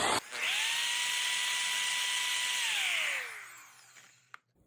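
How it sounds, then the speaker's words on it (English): A power drill reams out a pipe collar for a DIY floating flounder gigging light. Its close, high motor whine spins up quickly, holds steady for about three seconds, then winds down in a falling tone before a small click. "take a drill, take this drill bit, and go ahead and ream it out."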